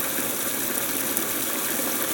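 Water gushes steadily into a plastic tote, an even rushing fill heard close up throughout, with no voices.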